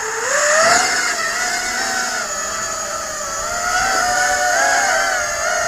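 The tilt motors of an Eachine Racer 180 drone give a loud, steady electric whine close by, with several tones gliding up and down slightly as the motors work.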